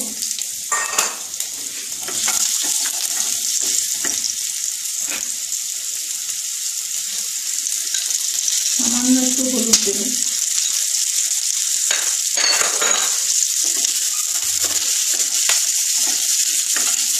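Bay leaf, cumin and a dry chilli fry in oil for a vegetable jhol, giving a steady, close sizzle with scattered crackles and stirring clicks, and a brief murmur of voice near the middle.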